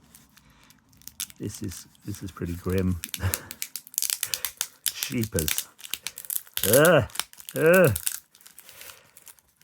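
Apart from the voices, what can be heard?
sellotape being peeled and torn off a parcel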